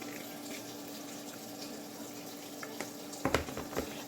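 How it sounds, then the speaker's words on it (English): Cold water runs steadily from a kitchen tap over cooked pasta noodles in a sink, a soft continuous hiss that ends with a few clunks and splashes. "they are in the sink with cold water running over them"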